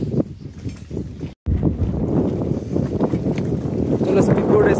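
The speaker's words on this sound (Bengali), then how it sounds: "চলো, স্পিড বোট এসে গেছে আমাদের" A speed boat arrives on the reservoir at Tehri Dam, its engine and water noise a close, steady rush beneath people talking nearby, broken by one short dropout.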